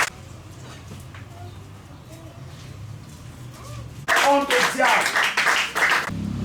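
A church congregation at a Sunday service bursts into loud, sustained clapping and cheering, following a stretch of quieter room sound with a voice speaking.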